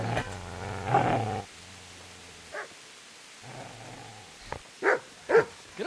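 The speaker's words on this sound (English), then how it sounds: "Get away, you mutt!" A dog barks and growls in the medieval video game Kingdom Come, with low rumbling growls followed by a few sharp, loud barks close by, alone without talk.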